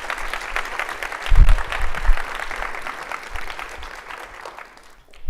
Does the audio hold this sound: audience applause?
yes